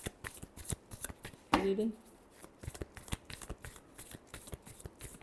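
Tarot cards being shuffled up close, a rapid riffling clatter with a brief louder burst, while someone speaks briefly over it.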